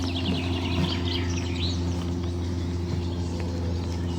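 A little plover calls outdoors in open nature, several thin, high chirping notes at moderate distance over a constant low rumbling hum of background noise.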